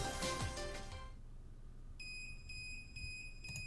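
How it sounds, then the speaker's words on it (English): A Procyon device in the video game Root Double beeps loudly with rapid, high, repeating electronic tones that start partway through, after a stretch of noisier game audio, and the overall level stays quiet. "Watase's Procyon started beeping louder than he'd ever heard it before"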